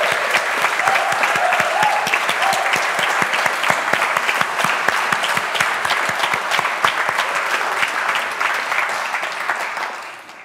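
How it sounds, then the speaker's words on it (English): Audience at a Cambridge Union debate giving a round of applause: loud, sustained, dense clapping from a large hall crowd for about ten seconds, tapering off at the end. "it's one more round of applause"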